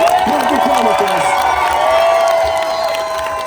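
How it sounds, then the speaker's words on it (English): An outdoor crowd at a memorial celebration in a park cheers and applauds, loud whoops and shouting riding over a continuous wash of clapping, close and dense throughout. "How about a big round of applause for"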